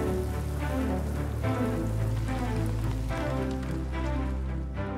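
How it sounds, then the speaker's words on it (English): Rain pours steadily onto surfaces, a dense continuous patter with a low rumbling undertone, loud and even throughout with no voices. "Rain, the source of Earth's fresh water and essential to life."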